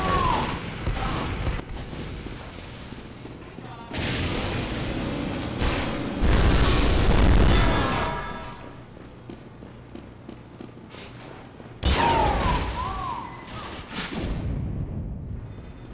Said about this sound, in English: Glad to see that the hit sound is working great.